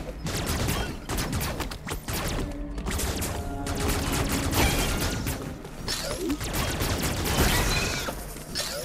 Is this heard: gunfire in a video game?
yes